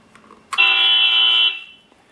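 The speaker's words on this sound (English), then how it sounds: "I also programmed some horn sounds" One loud, steady electronic horn blast from a Beier USM-RC-3 sound module in a 1/14 Rastar RC truck lasts about a second, then cuts off into near silence.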